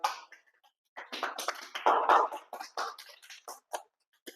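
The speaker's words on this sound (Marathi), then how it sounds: "सर्वांसाठी एकदा टाळ्या वाजवा" A small group claps together in scattered bursts, close and moderately loud, with short pauses between rounds of applause.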